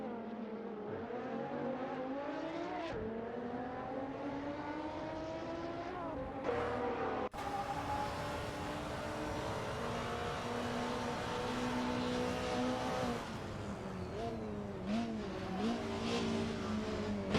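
Race cars in a hypercar racing video game roar around the track in a steady, continuous engine drone. Pitch swells and dips as they rev and shift, with a sharp cut partway through, and there is no talking.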